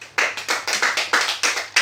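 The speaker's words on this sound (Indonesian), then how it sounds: "berikan aplaus untuk kelompok 4" Applause for a student group after a classroom presentation, a handful of people clapping in a quick steady rhythm, close and fairly loud for under two seconds.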